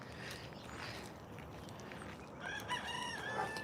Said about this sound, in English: And then you hear the chickens.